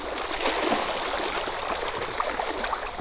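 A fast-flowing mountain stream rushes steadily at a tenkara fly-fishing spot, a loud, continuous watery wash with small splashes and no voices.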